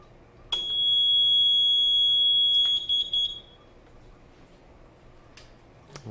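A fire alarm control panel sounds a loud, steady high-pitched electronic alarm tone for about three seconds, then cuts off, leaving quiet background with a few faint clicks.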